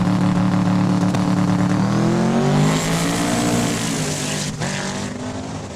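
Twin-turbo Beretta race car at a Saskatchewan raceway, its engine revving loudly up and down in rising and falling sweeps close by, then settling into a fading drone.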